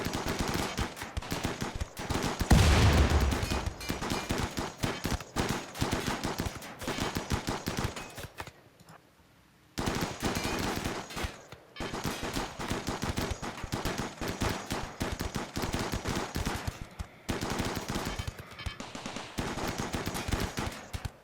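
Continuous rapid turret gunfire in the RimWorld video game, dense rattling bursts that go on almost without a break, with one short quiet gap in the middle before the shooting resumes.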